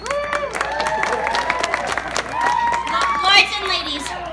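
An outdoor crowd at a Renaissance festival acrobatics show claps and cheers continuously, with whoops and shouted voices rising over the applause and a louder swell near the end.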